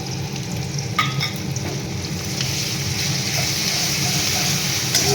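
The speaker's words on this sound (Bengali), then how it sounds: "এটা আমি ছেড়ে দেবো তেলের মধ্যে" Onion-chilli paste, garlic, spices, ginger paste and salt frying in hot oil while being stirred, a loud continuous sizzle throughout with occasional scraping clicks.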